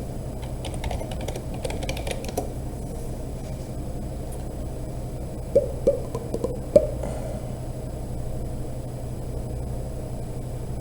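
Fingers type on a computer keyboard in short bursts of quick clicks, followed by a few separate heavier key taps, all over a steady low room hum.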